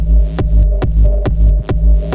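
A pitched techno sample with echo added: a deep humming throb under sharp repeating clicks at a steady pulse, each hit trailing off in soft repeats, loud and without voices.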